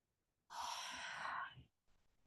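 A single forceful breath pushed out through the mouth with a breathy "ha" during a deep core breathing exercise, close and lasting about a second, followed by a faint softer breath.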